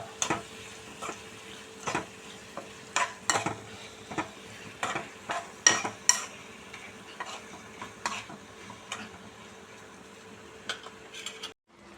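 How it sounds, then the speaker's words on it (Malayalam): Spoon stirring chopped mango pickle in a hot pan, with a soft sizzle underneath and irregular sharp scrapes and clicks against the pan that come every second or so and stop near the end. It sounds close and fairly quiet, with no talking. "നന്നായി ഇളക്കുക. ഇതിലോട്ട് മാങ്ങ അരിഞ്ഞതും ഇട്ട്"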